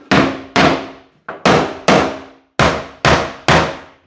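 Knuckles knock on a timber-framed wall to find a stud, giving seven or so sharp, solid raps in an irregular rhythm with short ringing decays, close and loud with no talk.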